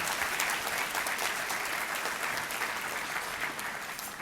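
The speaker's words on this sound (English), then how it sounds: "Let's give that a nice round of applause." An audience at an awards celebration applauds, a dense, steady round of clapping that slowly eases toward the end, with no voices over it.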